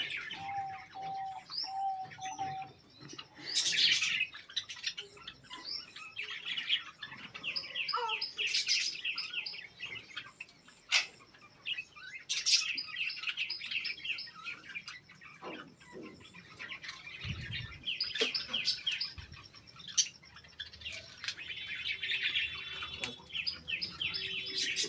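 Pet budgies and pigeons in a home aviary, with busy bursts of chirps and tweets coming and going throughout, soft pigeon coos underneath, moderately close.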